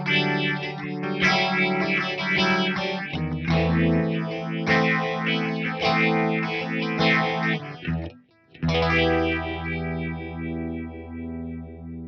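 Sustained distorted electric guitar chords through an MXR Phase 90 pedal with a gentle sweeping phaser effect, played continuously with a brief pause near the end.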